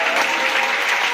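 Church congregation applauding in a short, dense, steady burst of clapping that fills the space evenly.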